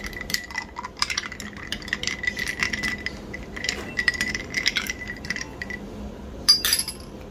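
An oat drink is stirred in a glass, giving a run of light clinks and taps from the spoon against the glass, fairly quiet and close, with a sharper clink near the end.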